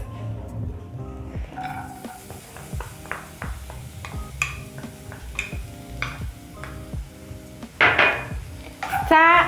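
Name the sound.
stirring onions cooking in oil in a pan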